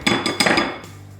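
A spatula working pastry custard through a strainer into a bowl gives a few quick metallic clinks and scrapes, close and brief, then fades to quiet.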